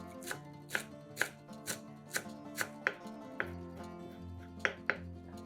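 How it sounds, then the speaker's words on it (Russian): A knife chops a bunch of fresh parsley on a cutting board, producing steady, crisp, close-up knocks in an even rhythm for several seconds, with kitchen background music underneath. "Нарезаем пучок петрушки."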